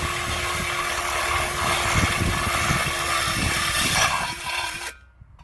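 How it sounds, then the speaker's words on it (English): A drill bit bores two small holes in the side of a scrap-metal freon tank being made into a pig, with a steady, loud whirring grind that holds for about five seconds and then stops abruptly. "take a drill bit and just drill me 2 little holes right here on the sides"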